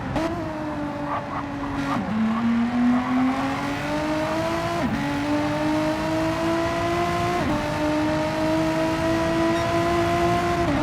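A race car on its out lap in Gran Turismo drones loudly with a steady engine note that climbs through each gear and drops sharply at every shift, repeating in long even pulls.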